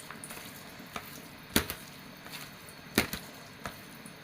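Spice mix for a sardine and gooseberry fish dish stirred in a pan, a few sharp scraping clacks of a spoon against the vessel at irregular intervals over quiet background, two louder strokes standing out.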